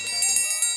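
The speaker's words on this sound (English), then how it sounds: "who can forget the dinner bell?" Dinner bell ringing in a quick run of bright metallic strikes with lingering high ringing tones, close and clear, alone without talk.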